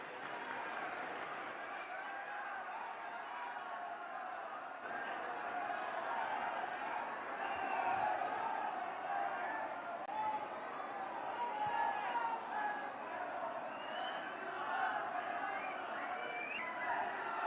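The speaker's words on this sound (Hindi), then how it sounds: "दोनों हाथ खोल के जोर से तालियों के गड़गड़ाहट के बीच स्वागत है" Crowd at a political rally applauding and cheering to welcome a party leader, a steady broad roar of clapping with scattered laughter and shouts, sustained throughout at moderate distance.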